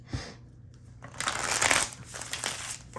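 A deck of tarot cards is shuffled during a reading, with a quick riffling and papery flutter of cards close to the mic that rises, then settles.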